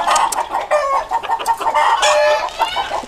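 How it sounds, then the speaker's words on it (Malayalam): A native country hen, about two years old and weighing around three kilograms, clucks loudly and repeatedly up close in short, uneven bursts. "ഇത് നാടൻ കോഴി."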